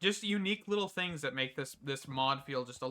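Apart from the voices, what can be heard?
No everyday noises stand out.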